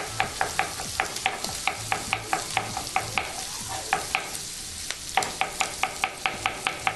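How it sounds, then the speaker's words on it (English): Onion frying in a pan for spicy fried rice, with a soft steady sizzle under regular, sharp taps and scrapes of stirring, close up and without speech. "I'm just going to add a handful of onion to it. Then allow that to cook."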